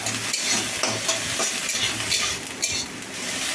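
Onion and garlic frying in a pan, a continuous crackling sizzle with repeated stirring scrapes and light utensil taps, close and moderately loud.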